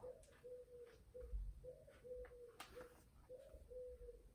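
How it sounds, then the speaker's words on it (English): An owl hoots in a repeated soft, low call, several even phrases in a steady rhythm at moderate distance over faint background noise. "I think it's an owl."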